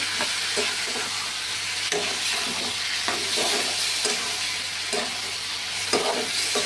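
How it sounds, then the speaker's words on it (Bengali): Spice masala of mustard, poppy seed, green chilli and tomato being stir-fried in a pan, with a steady close sizzle and repeated scraping stirs of a spatula at a roughly even rhythm. "মশলাটা ভালো করে কষিয়ে নেব।"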